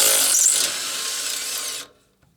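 Rattling the exhaust manifold from below on a 1959 GMC truck: one close, harsh, buzzing mechanical rattle that lasts about two seconds and then cuts off abruptly into near silence.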